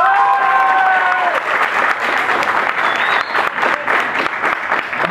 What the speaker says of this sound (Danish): Og dem, der synes Peter er årets baby, de klapper.